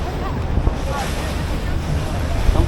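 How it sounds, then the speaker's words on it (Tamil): A tour boat speeding over the sea near Phi Phi Island, Thailand, with a steady close rush of water and waves mixed with heavy wind buffeting the microphone throughout. "நம்ம போட்டு மறுபடியும் ஸ்பீட் எடுக்க ஆரம்பிச்சிருச்சு."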